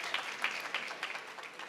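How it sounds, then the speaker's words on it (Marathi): An audience applauds to welcome a revered mahant at a Marathi kirtan gathering, a crowd of claps with small swells over a couple of seconds. "स्वागतासाठी एकदा टाळी वाजवा आपण."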